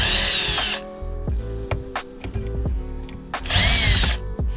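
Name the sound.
power drill removing screws on MR2 AW11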